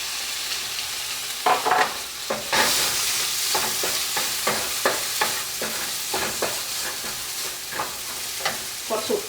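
Stirring and sizzling in a pan as tomato goes into a Kerala meen ada fish dish, with repeated close scraping strokes over a steady frying hiss.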